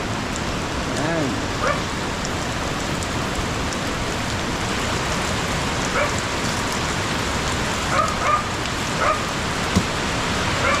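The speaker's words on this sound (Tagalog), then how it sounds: "Dito sa amin palagi lang umulan." Heavy rain pours steadily in the mountains, a dense, loud, continuous hiss of drops on surfaces throughout, with a few faint voices and a distant dog bark now and then beneath it.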